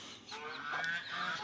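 Geese honking on a Romanian backyard farm kept alongside ducks, several nasal honks in quick succession, fairly close and loud, no talking.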